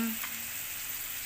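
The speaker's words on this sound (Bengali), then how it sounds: "দিয়ে আলুর সাথে পেঁয়াজটাও ভালো করে লাল লাল করে ভেজে নিব" Potatoes and onions browning in a hot pan, heard as a close, busy sizzle with a brief stirring scrape near the start.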